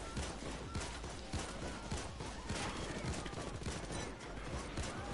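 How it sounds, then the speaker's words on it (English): Automated turret gunfire in the video game Payday 2: dense, continuous rapid-fire shooting that crackles steadily throughout without pause, fairly even in loudness. "This turret is shooting"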